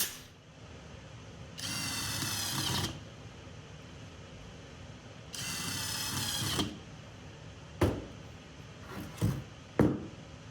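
Power drill driving screws into the legs of a simple cedar bench: two sustained whirring bursts of about a second each, followed by three short sharp knocks, close up with no talking.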